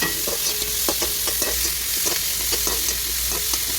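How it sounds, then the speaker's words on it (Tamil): Onions sauté in hot oil in a pan for sambar, a constant sizzle overlaid by quick, regular scraping strokes of a spoon stirring them, close and without voices. "வெங்காயம் நல்லா வதங்கட்டும்"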